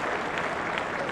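A large cricket crowd of about 20,000 applauds at Headingley during an England v India Test, a dense, steady wash of clapping with no talk over it.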